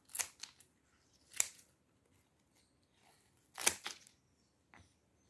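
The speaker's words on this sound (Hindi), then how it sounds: "चलो फिर इसकी नीचे की लीव्स भी काट ही देते हैं" Sharp scissor snips cut away the lower leaves of a spider plant, several crisp, close cuts in irregular bursts with silence in between.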